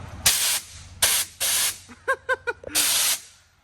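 A nitrous oxide purge on a car sprays in loud, sharp bursts, four separate hissing blasts of varying length, with a short honking tone sequence heard between the later bursts.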